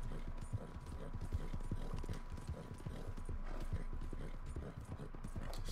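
Rapid, rhythmic hoofbeats of a galloping horse in the video game Red Dead Redemption 2 clop steadily throughout, close and fairly loud, with faint mechanical game sounds underneath.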